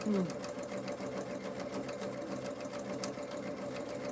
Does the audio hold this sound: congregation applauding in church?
no